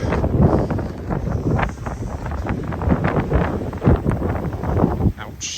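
Gusty winter wind in downtown Regina in December, buffeting the microphone with a loud, rumbling roar that rises and falls for the full stretch, with no talk.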